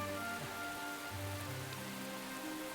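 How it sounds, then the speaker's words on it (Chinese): Steady rain falls on an outdoor surface in a continuous, even patter, with a low rumbling hum underneath and no voices. "下雨了，好，下雨了"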